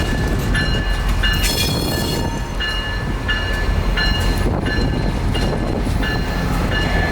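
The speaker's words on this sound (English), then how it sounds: "And so for this train's journey from Bradenton back north to Tampa, they'd essentially be pulling it in reverse" A CSX office car train rolls past near Bradenton heading north toward Tampa, pulled in reverse, with loud continuous rumble, rhythmic wheel clacks and squealing tones close by.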